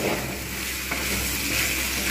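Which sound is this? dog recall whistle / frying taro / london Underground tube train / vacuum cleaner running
frying taro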